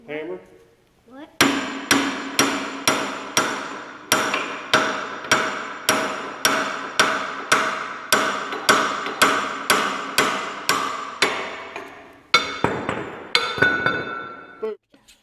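Sharp, ringing hammer blows strike a toy excavator about twenty times in a steady rhythm, each a bright metallic clink, loud and close, with a brief pause and a few quicker final hits.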